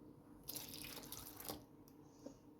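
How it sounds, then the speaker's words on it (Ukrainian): Water splashes and pours into a bowl of pie dough ingredients for about a second, then a few faint drips follow in a quiet room. "Виливаємо воду"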